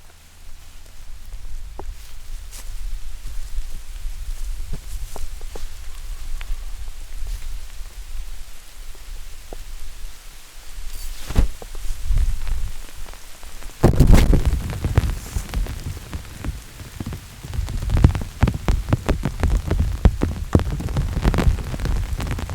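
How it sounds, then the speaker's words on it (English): Heavy rain pours down steadily and grows harder over time, with dense drops pattering on nearby surfaces and occasional louder thumps and splashes. No one speaks. "It's actually raining pretty hard now."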